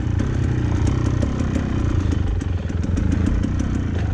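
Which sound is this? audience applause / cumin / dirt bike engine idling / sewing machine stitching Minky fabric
dirt bike engine idling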